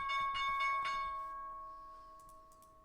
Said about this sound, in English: There's the bell coming up right now.